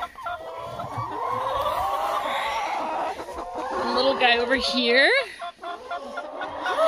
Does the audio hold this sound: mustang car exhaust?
no